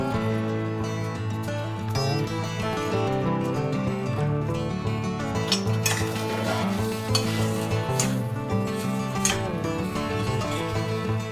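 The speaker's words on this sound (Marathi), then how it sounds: "हा मोकळा भात आपण बटाट्यामध्ये घालूया" Cooked rice being stirred into potatoes frying in a pan, with scraping and light sizzling throughout under steady background music.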